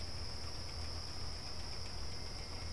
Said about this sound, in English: I don't hear anything besides the crickets